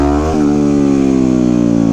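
A 2009 Yamaha WR250X supermoto engine revs hard during a wheelie: a loud, close, steady buzzing drone that dips briefly near the start, then climbs gradually in pitch and holds under throttle.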